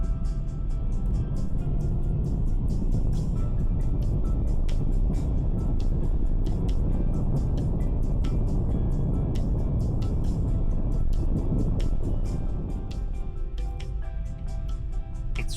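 BMW i3 (60Ah) electric hatchback accelerating hard, a low continuous road and tyre rumble with faint motor hum building steadily from inside the cabin, with scattered small clicks and no voices.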